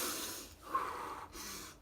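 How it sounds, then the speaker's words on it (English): A pregnant woman draws slow, deep breaths close up, with two long airy inhales and exhales, a slight catch in between, and no talking. "Deep breaths."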